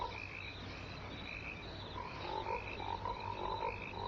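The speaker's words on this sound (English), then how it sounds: "the frogs were outside, ribbiting all crazy" Frogs croak outdoors at night in a film soundtrack, a dense steady chorus of overlapping rhythmic calls with a faint low hum beneath.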